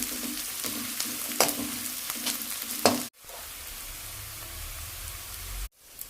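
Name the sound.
onion frying in a pan for potato stuffing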